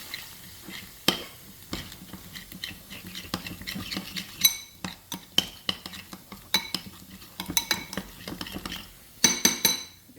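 Cutlery clinks and scrapes against a pot or bowl as instant noodle ingredients for a spicy garlic Indomie dish are stirred, with irregular sharp metallic taps heard up close and no talking.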